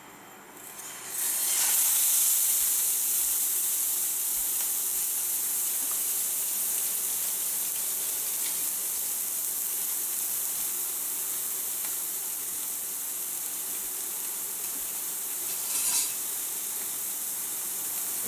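Pork sirloin sears in olive oil in a hot pan, a loud, steady hissing sizzle that swells at the start as the meat goes in and continues evenly, with a brief flare near the end.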